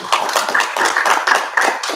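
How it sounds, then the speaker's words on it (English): A brief round of clapping from a small audience at an annual general meeting, with distinct, closely spaced hand claps heard near and clear for two seconds. "big round of applause for you"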